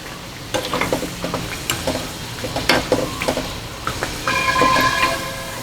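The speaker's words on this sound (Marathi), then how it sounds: "आधी एक तळून बघूया कशी" A homemade pea kachori fries in hot oil, sizzling steadily with scattered pops and crackles, while short clinks and scrapes from a utensil in the pan break through; the bubbling swells louder and denser near the end.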